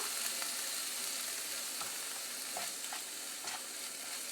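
Spinach and onion being stirred in a frying pan, a quiet steady sizzle with soft scraping stirs scattered through, no talking.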